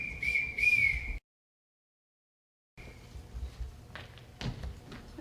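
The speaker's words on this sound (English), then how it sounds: "Everybody answers to a whistle." A sharp, shrill whistle blows two quick blasts to summon someone in a school stage production, loud and alone, followed after a silence by faint stage shuffling and thumps.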